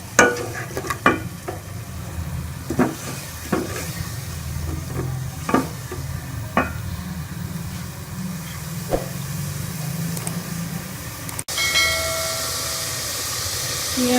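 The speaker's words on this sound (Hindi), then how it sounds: "तो इसको हम मसाले को अच्छी तरह भून लेते हैं।" Masala for rajma (red kidney beans) frying in a pan, a steady low sizzle with scattered stirring clicks and scrapes, moderately close, with no talking.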